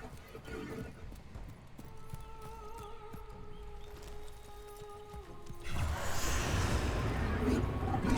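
Horse hooves clip-clop in a video game, with a neigh ringing out and sustained tonal game sounds, followed by a burst of louder noise toward the end.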